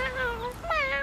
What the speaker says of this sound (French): Regarde, c'est un tout petit chat.